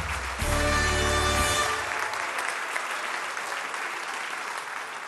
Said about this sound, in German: Applaus für den schrägsten aller Vögel, Applaus für den Bundesraben alias Thomas Hartmann